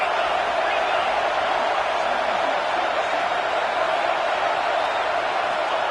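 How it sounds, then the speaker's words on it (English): A packed stadium crowd at an Auburn Tigers football game roars in a dense, steady wall of noise, constant and loud throughout with no pauses. "listen to this crowd noise. This stadium is vibrating."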